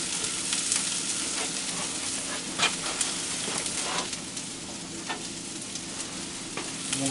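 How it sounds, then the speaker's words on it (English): Garlic sizzles and fries steadily in a hot pan alongside caramelizing butternut squash, a continuous close crackling hiss with occasional louder pops and stirring scrapes. "I'm going to go ahead and add my garlic to this."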